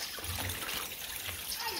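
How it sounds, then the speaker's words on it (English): A brook trickles nearby on a countryside stroll in Germany, with a continuous soft babble and light splashing filling the short moment. "water trickling in this brook"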